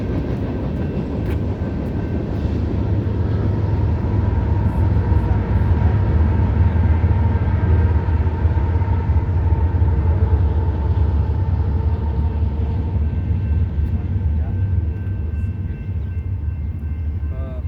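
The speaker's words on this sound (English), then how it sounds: "It's a long train." A long train rolls past nearby with a steady, heavy rumble and a continuous roar that stays loud and unbroken throughout, with no voices over it.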